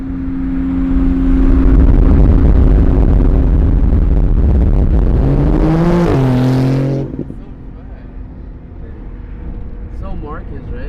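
A supercar drives past loudly, its engine revving and rising in pitch before it fades away. Voices talk over the engine noise.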